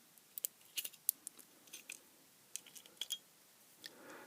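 Small snips and clicks as cutters trim the wire leads of a panel indicator, a dozen or so sharp, faint, irregular cuts close up in a quiet room, with no talking.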